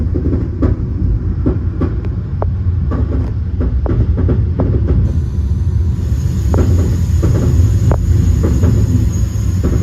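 Metra commuter train on the BNSF line near downtown Aurora, running with a steady low rumble and a rhythmic clickety-clack of wheels over rail joints, close and continuous throughout with no talk.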